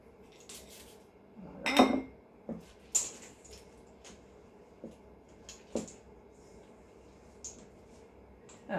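A spoon works cookie dough around a bowl with chocolate chips, giving intermittent clinks and scrapes against the bowl, one louder knock near the start, then quieter taps spaced out over a soft background.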